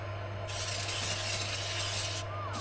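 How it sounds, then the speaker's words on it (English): Olive oil sprayed onto a hot pan on a 2000W induction cooker, a steady hissing spray with soft sizzling lasting about two seconds, fairly close and heard alone without talk. "Spray a bit of olive oil."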